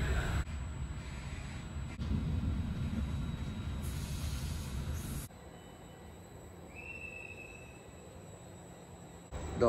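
A regional train running from La Spezia to Riomaggiore on the Italian coast gives a steady rumbling, clattering interior ride noise that later softens to a quieter hiss with a brief squeal, heard without voices.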